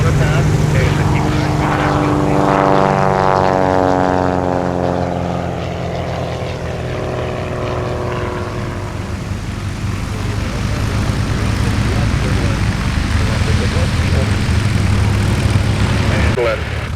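A propeller airplane arrives on the Oshkosh runway in a crosswind, its engine drone loud and near at first, pitch sliding down as it passes, then steady rumble and wind under talk.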